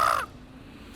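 A cartoon crow named Kanju gives a single loud, harsh caw at the very start, cut off after a quarter second and followed by quiet background.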